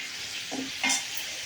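Brinjal and potato curry sizzling in oil in a pan, with a couple of brief stirring scrapes over a steady frying hiss.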